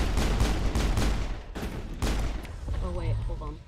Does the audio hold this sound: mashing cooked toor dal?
no